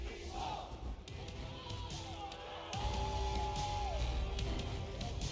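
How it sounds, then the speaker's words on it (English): A large arena crowd at the ALGS Apex Legends esports championship roars and cheers continuously, a dense wall of shouting that grows louder partway through. "as the crowd is going wild"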